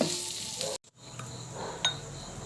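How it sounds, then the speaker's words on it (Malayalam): Onions sauté in a pan for sardine curry, giving a steady soft sizzle with a brief gap and the occasional clink of a stirring spoon, heard close and fairly quiet. "സവോളയൊക്കെ വഴണ്ട് വന്നുകൊണ്ടിരിക്കുന്നുണ്ട്."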